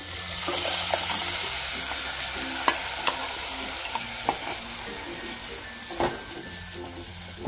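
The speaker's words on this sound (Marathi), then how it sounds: "आणि आता डाळ ओतून घेऊया आपण." Cooked dal being poured into a hot pan for a no-onion, no-garlic offering meal, then stirred; a steady wet sizzle runs throughout with scattered sharp spoon clicks against the pan, close and moderately loud, no talking.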